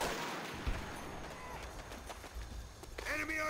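Artillery fire in the video game Call of Duty: World at War lands as dull booms and gunfire-like thumps under a noisy battle bed, with shouting voices toward the end.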